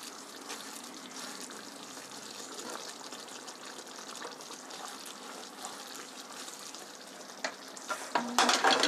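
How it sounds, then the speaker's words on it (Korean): Thick sweet bean sauce for jajang bubbles and simmers in a pot with a soft, steady blipping, stirring scrapes rising louder near the end. "보글보글 잘 끓는다"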